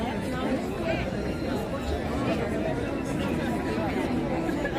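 A large crowd at Disneyland makes a dense, steady buzz of overlapping chatter that holds an even level throughout, with no single voice standing out.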